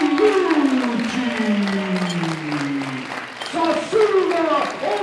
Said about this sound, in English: A big round of applause for the gold medal winner